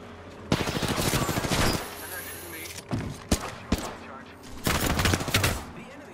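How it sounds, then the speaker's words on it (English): Enemies fire guns in a video game, with bursts of rapid gunfire in several volleys separated by brief gaps, loud and close. "The enemies are shooting at me."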